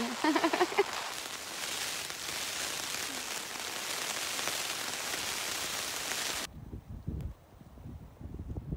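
Heavy rain drums steadily on a camping tent, a dense close hiss that cuts off abruptly, leaving quieter patter and rustling.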